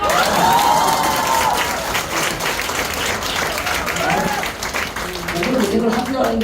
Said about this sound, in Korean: 완전 박수 치세요.